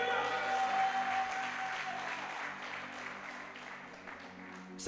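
A church congregation applauding the Lord during a French-language sermon, a steady wash of clapping that slowly thins and fades, with a sudden loud burst at the very end.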